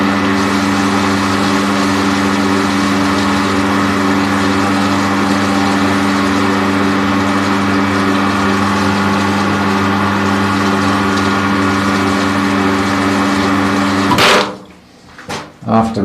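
Pool pump running steadily during the filter rinse after backwashing, a loud continuous motor hum with strong tonal harmonics that holds level for about fourteen seconds before cutting off abruptly into near silence with a couple of brief knocks.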